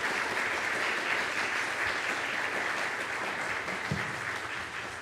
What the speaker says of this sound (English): It's okay, we can clap for him